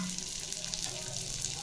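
Broken wheat (dalia) with moong dal and vegetables frying in a pan with tempering, a steady close sizzle with faint stirring.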